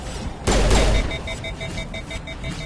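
Gunfire in the Mass Effect video game on PS5 at Insanity difficulty, a loud burst of shots starting about half a second in, then a steady run of rapid fire with beeping alarm-like tones, no talking.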